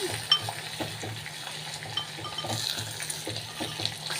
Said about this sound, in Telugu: ఉల్లిపాయలు బాగా కలిపేసుకున్నాం